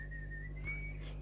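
Someone whistles a single thin, steady note at close range, faint and held for just over a second, with a low background hum beneath it.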